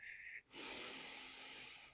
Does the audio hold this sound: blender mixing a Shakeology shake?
no